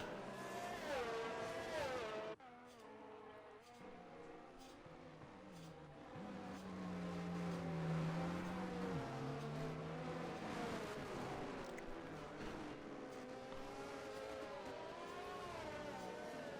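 Race car engine in a racing video game at a Miami Grand Prix league race, held at about half throttle behind the field: a continuous droning engine hum with shifting pitch and a few louder swells, steady and moderately loud throughout.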